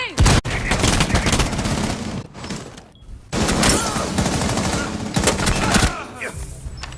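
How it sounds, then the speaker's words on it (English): Rapid bursts of gunfire crackle back and forth during a video game esports match, loud and dense with brief gaps, under faint commentary. "Shots being exchanged back and forth."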